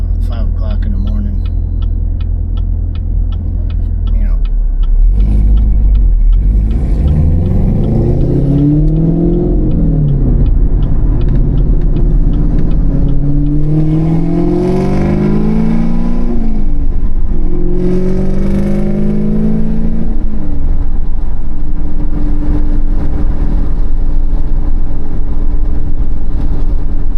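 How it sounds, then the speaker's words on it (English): A 2016 sixth-generation Chevrolet Camaro SS with a six-speed manual and a camshaft sensor fault revs loudly and close by. The deep, rumbling engine climbs and falls through several surges, then settles to a steady drone. "Left a letter in my mailbox complaining about how loud my car was"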